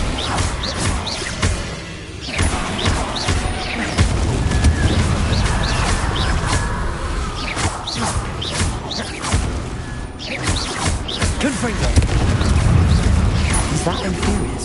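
Confringo, an explosion spell in the video game Hogwarts Legacy, bursts amid dense, continuous game noise, with sharp crashing booms standing out around a couple of moments and a steady rumbling bed underneath.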